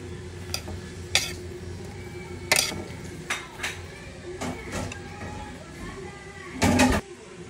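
Bitter melon and eggplant are stirred in a pan, giving scattered metallic scrapes and clinks of a utensil against the pan over a low sizzle, with a sharper clatter near the end and a voice talking in the background.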